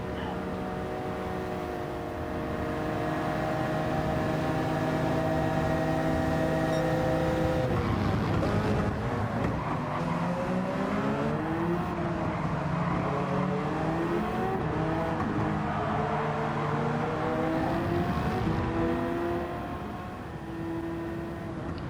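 Racing video game engines at Spa as the number 7 Toyota hypercar and the leading 66 Porsche overtake on either side down a straight, a loud steady drone of several high-revving engines rising and shifting in pitch as the cars pass close by.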